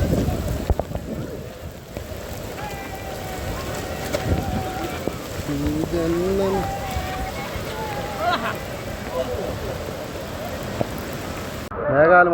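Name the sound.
heavy rain at Athirapilly waterfalls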